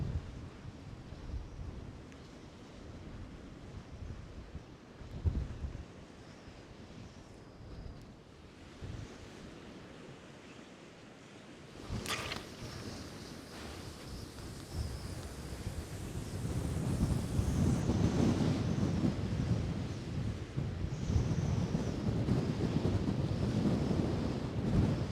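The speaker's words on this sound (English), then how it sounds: "Get that line mended back against the wind, which seems to be increasing all the time." Wind gusts roar against the microphone on the coast at Brean Down on the Bristol Channel while sea-fishing, with waves surging behind and growing stronger toward the end, no voices.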